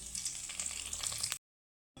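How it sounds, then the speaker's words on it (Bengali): Bay leaves and dried chilli fry in hot oil in a kadai, giving a steady broadband sizzle and crackle that runs unbroken, then cuts off abruptly into silence before a short burst returns. "তেজপাতা আর শুকনো লঙ্কা ভাজা হয়ে গেছে"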